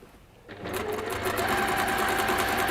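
A sewing machine runs steadily, stitching through a bag lining to hold it in place, starting after a brief quiet moment and then humming continuously at close range with a rapid, even needle rhythm.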